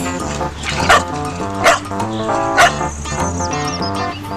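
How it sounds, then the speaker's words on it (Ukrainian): A dog gives three short, sharp barks at an even pace, fairly close, over a steady background of music in a studio setting. "Навіть собака дає голос."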